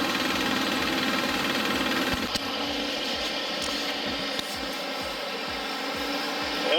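A tractor engine runs steadily on a test bench with a low, rhythmic chugging throb and some mechanical rattling, fairly close, with occasional clicks.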